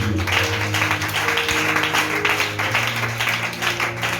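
A church congregation applauds together in a dense, loud, sustained wash of clapping with no break.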